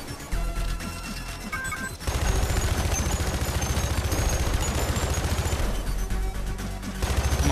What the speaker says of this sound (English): I need the machine gun for this one. Ooh, that's an AR-15,